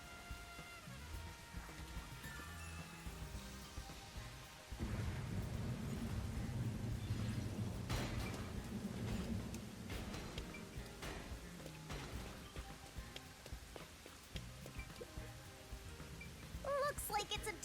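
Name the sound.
rain and thunder in a video game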